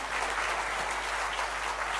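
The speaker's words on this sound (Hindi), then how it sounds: "तो एक बार जोरदार तालियां होनी चाहिए उनके लिए।" A crowd applauds steadily, a dense, even wash of clapping hands at full volume for the whole stretch.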